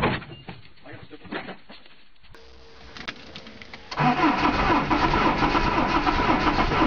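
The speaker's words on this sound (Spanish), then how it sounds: "Este cacharro arranca el moto a la primera. Mira cómo arranca." An old Citroën C15 van engine cranks briefly and catches first time, then settles into a loud, close mid-pitched running roar that continues steadily to the end.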